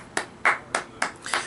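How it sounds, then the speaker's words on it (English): Five sharp separate hand claps in a slow, even rhythm, close and crisp, with no crowd behind them. "give a round of applause to the news that we have all been waiting for"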